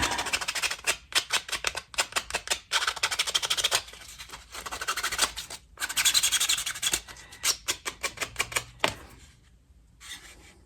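Sandpaper roughs up a surface on a costume chest piece, heard as close, rapid scratchy strokes in quick rhythmic bursts with brief gaps, fading to quiet near the end.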